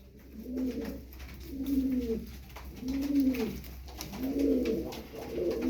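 Repeated soft, throaty coos from a courting male Ankara Kırı pigeon in rolling phrases, about five bouts in steady rhythm, close by with faint background noise.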